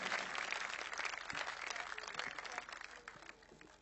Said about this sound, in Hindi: जोरदार तालियों के बीच बुलाइए